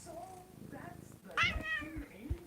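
A cat gives a clear meow up close, and soft talking can be heard around it.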